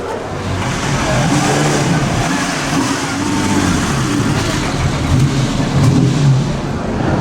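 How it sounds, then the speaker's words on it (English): A 1949 Mille Miglia-winning Ferrari race car passes in a parade during the 2013 Mille Miglia, its engine a loud, sustained rumble close by, swelling slightly as it goes. "I do believe this is the 1949 winner of the Mille Miglia Ferrari"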